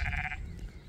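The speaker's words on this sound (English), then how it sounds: "It's Sean the sheep." A sheep on a bluebell-covered hillside near a waterfall walk gives a single short, close bleat, followed by quiet outdoor background.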